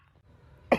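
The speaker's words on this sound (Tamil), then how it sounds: "என்னடா முரட்டு இருமலா இருக்கும் போலியே" A single sharp, loud cough bursts out at the very end after near silence.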